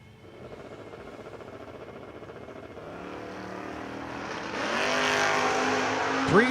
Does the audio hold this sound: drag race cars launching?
yes